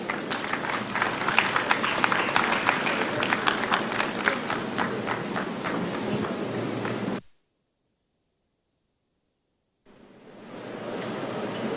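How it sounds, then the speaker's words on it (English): An audience at a Kwahu business forum in Ghana breaks into dense, loud applause that lasts about seven seconds, cuts to silence, then fades back in as a softer crowd noise. "Let's welcome her with a round of applause."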